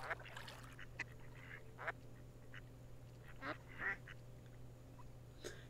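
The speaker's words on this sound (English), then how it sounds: "You give the ducks food and they go berserk over it." Cartoonish ducks in a mobile iPad game quack repeatedly and excitedly over breadcrumbs, with short bursts of quacking over a steady background hum.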